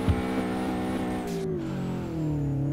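Subaru BRZ engine in the DRIFT21 driving game, a continuous revving tone whose pitch holds, dips with a gear change, then climbs again, with no talk.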